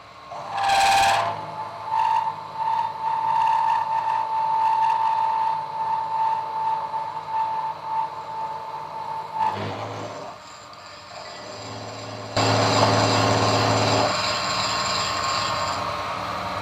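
A milling machine cuts hard steel with a brand new cutter, giving a steady high whine with mechanical clatter, a brief loud burst at the start and a change in tone near the end.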